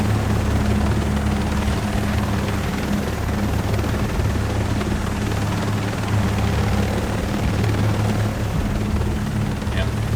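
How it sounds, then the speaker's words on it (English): A helicopter rotor in the video game Ghost Recon Breakpoint throbs steadily and loudly, a continuous close drone with a low beating hum that holds unchanged throughout. "The helicopter's quite noisy"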